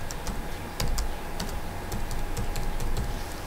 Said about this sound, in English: I have entered my password again.